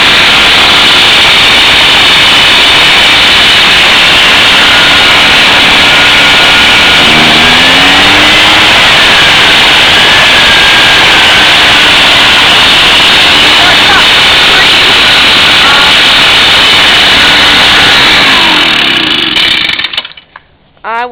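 An Echo backpack leaf blower with its two-stroke engine on full choke runs at a loud, steady roar for most of the stretch, then cuts out abruptly near the end.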